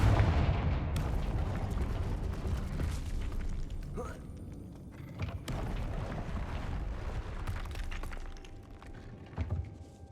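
Confringo fire spells in the Hogwarts Legacy video game burst in repeated booming blasts with crackling debris, loud and near, mixed with game sounds throughout.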